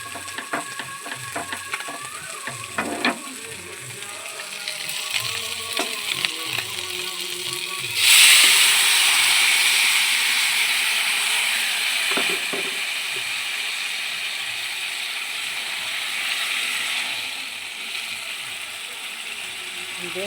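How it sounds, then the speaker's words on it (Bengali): Boiled, half-cooked Malabar spinach is sautéed with fish head in a pan, giving a steady frying sizzle that swells loudly partway through and continues alongside scattered scraping and clinking of a utensil. "এবার এটা সাঁতাল দিয়ে দেবো।"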